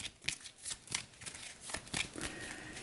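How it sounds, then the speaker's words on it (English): A deck of cards from a World War II board game is shuffled by hand, with soft riffling and flicking bursts in an irregular rhythm, close and fairly quiet, with no talking. "We'll give the Axis conflict deck a shuffle."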